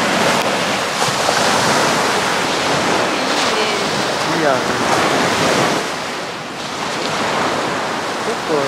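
Sea waves crash and surge on the shore at Atami in loud, rolling swells under gusty wind, while people exchange a few brief words.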